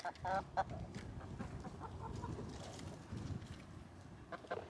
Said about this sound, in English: these are my little chickies